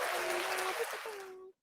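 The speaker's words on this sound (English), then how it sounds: "You can give yourself a round of applause." Podcast guests and team give a short round of applause, a dense patter of clapping blended with voices, then cutting off abruptly.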